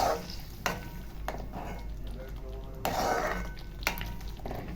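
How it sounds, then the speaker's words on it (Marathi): A hot tadka with red chili is poured onto methi bhaji in a home kitchen, giving a steady close sizzle with occasional utensil knocks and clatter while stirring. "टाकल्या टाकल्या लगेच आपल्या भाजीवर हा तडका टाकून द्यायचा"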